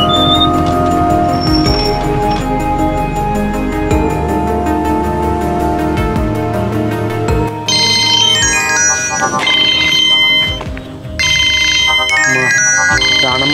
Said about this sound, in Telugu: రానమ్మ ఫోన్ చేస్తానేంది?